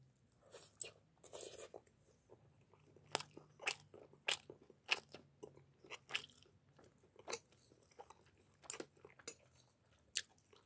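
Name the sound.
chewing crunchy Cro-edge pizza crust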